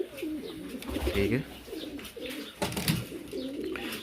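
Pigeons cooing in a home breeding loft, repeated low throaty coos close by, with someone talking over them throughout.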